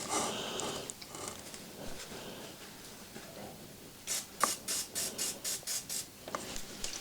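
Chain cleaner is sprayed on a BMW R1150RT motorcycle final drive in a quick run of about eight short, hissing spray bursts, close and loud, after a quieter stretch.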